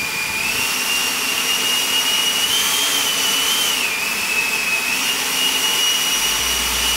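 Strong artificial wind blown at a DJI Mini 3 Pro drone for a wind test, a loud, steady roaring rush of air with a high whining tone that wavers slightly in pitch, continuous throughout.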